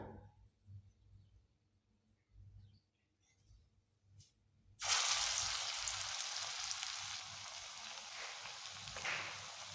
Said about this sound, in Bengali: কড়াতে আমার তেল গরম হয়ে গেছে এইবার এখানে আমি এগুলোকে এখন ছাড়ব